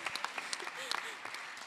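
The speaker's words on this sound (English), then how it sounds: "The first time a troll has gotten applause at Wikimania" Brief applause from a Wikimania conference audience, a short burst of scattered clapping heard faintly under a voice speaking.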